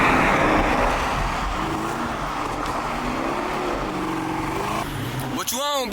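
A Chevrolet Camaro ZL1 1LE drives with a loud, steady engine drone and road rumble throughout, while people talk over it inside the car; near the end a brief rising whine sweeps up as the engine revs.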